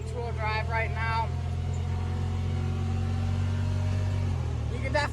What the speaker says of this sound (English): It's definitely revving up.